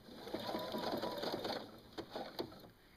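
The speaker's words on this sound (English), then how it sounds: "going a couple stitches, making sure my needle is down, and then you pull the elastine and then let off a little bit, and stitch" Sewing machine stitching elastic onto a prefold diaper, a quick rhythmic run of needle clatter that slows into a few separate stitches, close and fairly quiet with no talking.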